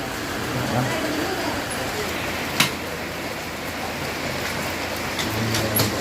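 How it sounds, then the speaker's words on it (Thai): Heavy rain pours steadily in a broad, even hiss outdoors, with a sharp crack breaking through once. "ฝนก็ไม่ได้เป็นใจเลยพี่น้องเลยเนาะ"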